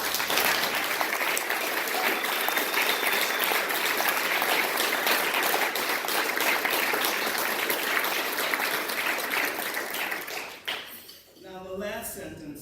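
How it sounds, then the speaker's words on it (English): Sustained applause from a dinner audience at an endowment dinner, steady and fairly loud for about ten seconds before tapering off as a voice begins speaking. "So let's give Curtis Stokes a round of applause."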